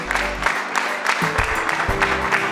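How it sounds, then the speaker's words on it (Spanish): Applause from a group of hotel employees at a service-training session, a steady patter of clapping hands close by that carries on continuously, with a low hum running underneath. "Aplausos para nosotros."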